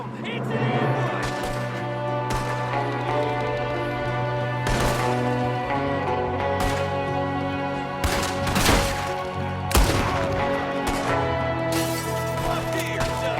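Gunfire erupts during an ambush in Red Dead Redemption 2, with repeated sharp shots and volleys cutting through a steady musical score and ongoing game noise.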